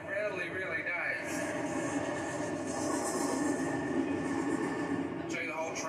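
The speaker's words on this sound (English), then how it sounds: "listen to the rail cars" Heavy rail cars of a CSX manifest freight train roll past close by in Deshler, Ohio, in a steady, rumbling wash of noise with faint metallic squeals, continuous throughout and briefly easing near the end.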